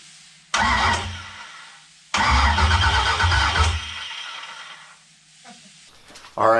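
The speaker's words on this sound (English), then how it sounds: "We're going to crank it over for the very first time. Going to let the fuel prime through it and just see if it sparks up." Nissan 350Z fitted with a swapped LS V8 engine cranking for its first start, heard as two loud bursts of starter churning, each a second or two long and separated by a short pause, followed by quiet.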